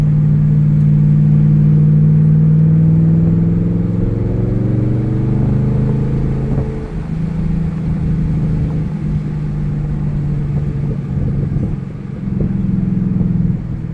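A Chevrolet Camaro Z28 V8 runs hard on winding back roads, its engine droning steadily close to the microphone with a rising rev that falls away, then picks up again under continuous road rumble.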